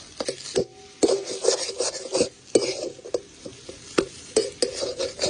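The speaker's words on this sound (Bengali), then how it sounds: "কাঁচা লঙ্কা কুচি আর ধনে পাতাটা দিয়ে ভালো করে একটু মিশিয়ে নামিয়ে নেব।" Spoon scraping and stirring through a potato filling mixed with chopped green chili and coriander in a pan, close and clear, with irregular knocks and scrapes and a faint sizzle underneath.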